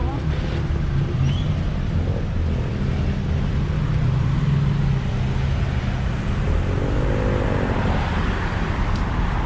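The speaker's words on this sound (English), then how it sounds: "Oh God, we have to go through this traffic." Road traffic in Thailand rumbles steadily throughout, a continuous low roar of passing vehicles with wind buffeting the microphone and no clear breaks.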